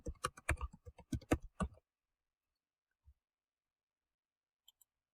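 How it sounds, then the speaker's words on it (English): Quick bursts of clicking keys on a computer keyboard as a title is entered, a close, dense run of taps lasting under two seconds, then near silence with a lone faint thump and two tiny late clicks. "We'll type that in as a title."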